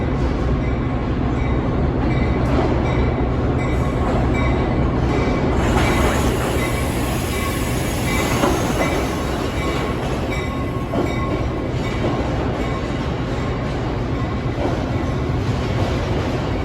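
A train rolls in along the tracks at Roosevelt Road in a loud, continuous rumble with wheel noise, clatter and faint squeal, steady throughout with no voices.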